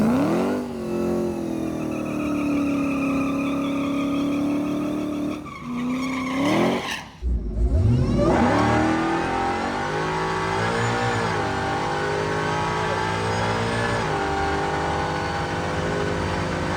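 Dodge Demon-powered truck launching down a drag strip on boost alone, engine roaring loud and close as it revs through a brief shift break, then a sustained hard pull that continues to the end, with no talk.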